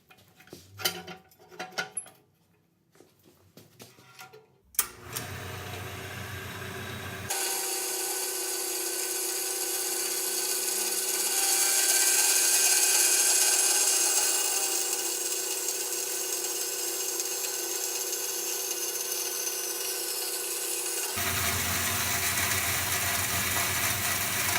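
A Tester/Greenlee horizontal bandsaw cuts through stock with a steady, continuous whine and hum, after a few short clattering knocks as the machine starts. The cut runs evenly for about fourteen seconds before the pitch drops as it finishes.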